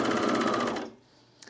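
A serger stitches a seam through fabric in a fast, rhythmic mechanical burst lasting just under a second, then cuts off abruptly, leaving quiet room tone and a faint click.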